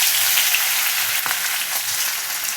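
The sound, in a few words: garlic sizzling as it's added to hot oil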